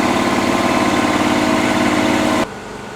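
A Mini Mac 400 mixer runs empty at about 100 RPM with its impeller turning freely, giving a steady close motor hum that cuts off abruptly just before the end.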